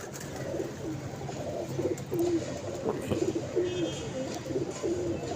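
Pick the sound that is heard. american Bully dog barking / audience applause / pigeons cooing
pigeons cooing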